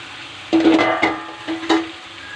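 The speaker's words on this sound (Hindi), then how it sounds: "अब इमा डालबो हमारे ये चना ला थोड़ा से फ्राई कर लेते हैं" Chickpeas frying in hot oil in a kadhai, with short bursts of sizzle and crackle as they hit the oil and are stirred, close and moderately loud, no talk.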